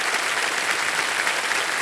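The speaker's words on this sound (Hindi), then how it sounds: "इसके लिए जोरदार तालियां।" A studio audience on a Hindi-language Wheel of Fortune game show breaks into strong, sustained applause, an even, dense roar of clapping with no voices standing out.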